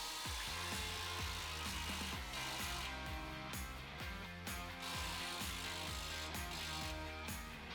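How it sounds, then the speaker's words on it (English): Tools loosening U-bolt hardware on a Ford F-150 rear suspension, heard as a repeated series of close, mechanical ratcheting bursts at a steady pace over a constant background hum. "Loosen and remove the U-bolt hardware."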